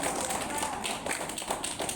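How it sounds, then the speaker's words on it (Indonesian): Audience at an Isra' Mi'raj commemoration clapping for a child, a brisk run of many overlapping handclaps at moderate loudness with some voices mixed in. "Tepuk tangan untuk teman kita."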